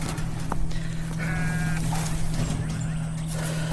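On a farm in 100° heat, a sheep gives a single short bleat over a constant low mechanical hum and general outdoor background noise.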